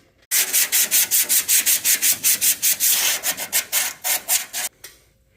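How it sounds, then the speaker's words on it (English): Hand sanding a metal car body panel with about 150-grit sandpaper to scuff it before E-coating: steady, rhythmic back-and-forth rasping strokes, loud and close, around twenty strokes with no talking. "just going to go in here real quick with some 150 or whatever I've got, just to scuff all this up"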